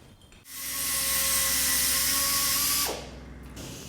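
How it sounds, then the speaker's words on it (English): A power tool spins up and grinds steadily for about two and a half seconds while cleaning the exhaust flange of an H6 Subaru Outback being straight-piped, a loud, close high-pitched whine that then winds down. "And that's how you clean the flange."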